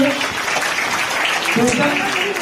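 An audience applauds to welcome a karate instructor at a fitness and dance academy event, with dense steady clapping and voices mixed in throughout.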